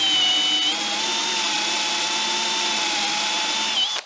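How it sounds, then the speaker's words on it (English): Power drill boring a countersink hole in wood with a Forstner bit, a steady high whine held at an even pitch for several seconds before cutting off abruptly, close and loud. "So I'm just going to drill a countersink hole with a Forstner bit."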